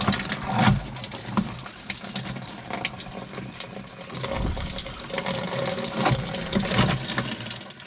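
Water splashes and trickles while it is drawn from a source outdoors, with uneven bursts of pouring and sloshing over a steady wet background, fairly close.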